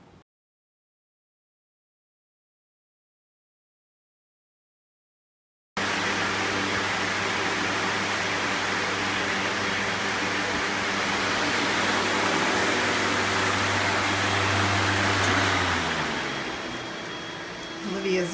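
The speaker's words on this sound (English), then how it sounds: "I had that big old turbo fan going" A big turbo fan runs indoors as a steady, loud whooshing roar with a low hum, starting abruptly after about five seconds of silence and dipping near the end.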